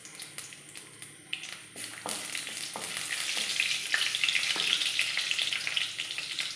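Panch phoron spices sizzle and crackle in hot oil in a kadai, a bright steady frying hiss that builds gradually, with a few scattered pops and stirring clicks, close and with no voices.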